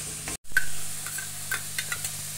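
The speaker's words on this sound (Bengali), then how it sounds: "আর এটা এখন ভালো করে কষিয়ে নিতে হবে যতক্ষণ না তেলটা ছাড়ছে।" Katla fish kalia masala sautéed in oil and stirred in a pan: a brief spell of soft sizzling with a few light scraping strokes of a spoon, close by and fairly quiet, with no talking.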